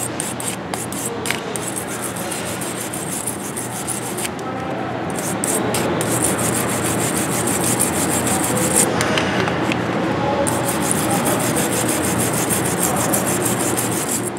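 An aluminum can is rubbed steadily to clean its surface, a continuous close scratchy rasp that grows slightly louder midway, with faint talk beneath.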